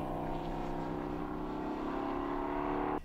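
A De Tomaso Pantera race car with a 5.8-litre V8 runs loud and steady, its engine note holding a constant drone close by before cutting off abruptly near the end.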